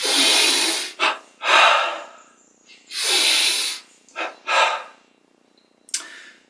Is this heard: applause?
no